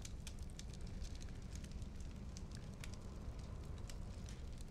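A crackling fireplace in a dormitory, with steady soft pops and snaps over a low continuous rumble, faint and evenly spread throughout with no voices.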